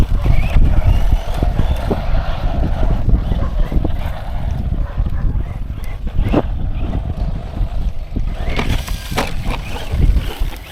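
A Deerc 9201E RC car with a small brushed motor on a 3S battery runs continuously, a steady rough whir with wind-like rumble and gravelly tire noise, staying loud and close with no voices.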